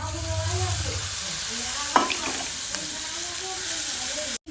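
Cumin seeds and chili paste dropped into hot oil for a Gujarati snack, giving a steady close sizzle with brief spatter and stirring clinks, a sharp crackle near the middle.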